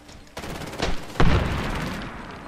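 An ACR rifle fires in Medal of Honor Warfighter multiplayer, a few sharp gunshots and a louder blast amid echoing battlefield noise.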